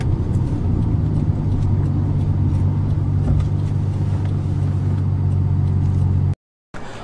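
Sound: Nissan Skyline GTR R33 engine revving

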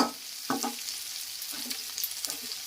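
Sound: frying in a pan

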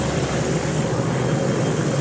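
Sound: Pilatus PC-7 turboprop trainer airplane in flight

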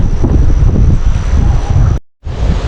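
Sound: strong wind blowing over mountains

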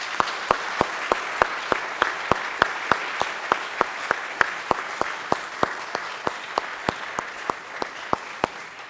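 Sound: applause for scout emblem recipients

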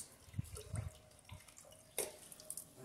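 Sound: pouring water into liquid soap mixture

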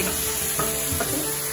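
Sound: eggs frying in a pan

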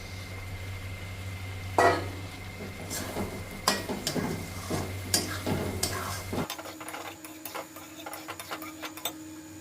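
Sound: soaked mushrooms frying in butter in a pan

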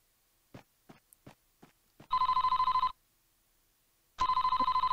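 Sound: telephone ringing in the video game Famicom Detective Club II

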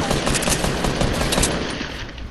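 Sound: gunshots in Fortnite video game

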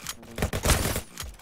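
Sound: gunfire in a shooting video game

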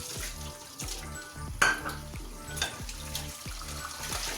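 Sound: washing dishes by hand under hot running water

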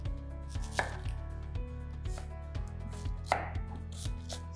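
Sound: chopping onion with a knife

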